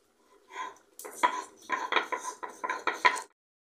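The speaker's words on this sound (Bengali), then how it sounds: "এই গরম মশলাটা আমি এখন বেটে নেব" Garam masala ground by hand for a taro dum curry: a close, steady run of about eight rhythmic grinding and knocking strokes, with no voices.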